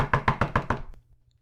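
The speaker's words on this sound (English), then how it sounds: "a loud knocking broke the silence" A loud knocking on a door, five firm, evenly spaced raps in quick succession, then abrupt silence.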